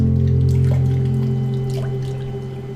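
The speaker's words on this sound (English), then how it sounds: "Then the highlight, the waterfall therapy." Warm water pours and trickles in a waterfall therapy massage treatment, a continuous soft splashing that fades gently over a steady low hum.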